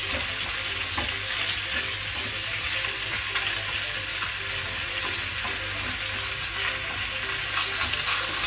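Steak pieces frying in a hot pan, a loud continuous sizzle and crackle with occasional stirring sounds, close and alone.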